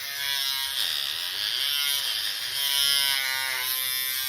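Borrowed electric hair trimmer buzzing steadily and continuously at close range, with a bright whine and slight wavering as it moves through hair, no speech.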